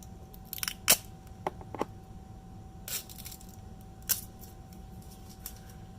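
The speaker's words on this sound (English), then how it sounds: "Very clicky buttons." Buttons on an Amazon Fire TV Stick remote are pressed, giving scattered sharp, faint clicks, some in quick pairs, close up against a quiet background.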